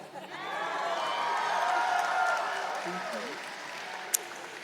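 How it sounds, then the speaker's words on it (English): Graduation crowd at a college commencement clapping and cheering, with whoops and voices rising above a sustained wash of applause that builds then slowly eases, one sharp clap near the end. "You can clap if you agree with them."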